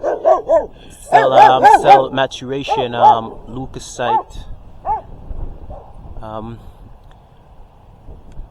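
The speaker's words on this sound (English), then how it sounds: "Sorry about the dog barking" A dog barks indoors during a botany lecture, several sharp barks and yips in a loose cluster mixed with the lecturer's speech, fairly close and loud, then tapering to a few fainter whimpers.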